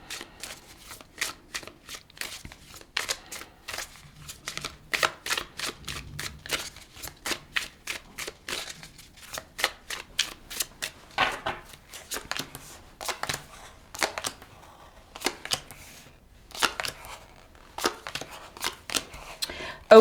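Tarot cards being shuffled by hand in a quiet room, a long run of crisp riffling and flicking bursts in an uneven rhythm, close and fairly soft, with no talking over it.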